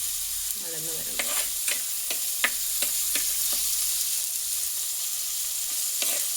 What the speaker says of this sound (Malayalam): തക്കാളി നല്ലോണം വഴന്ന് വരണം.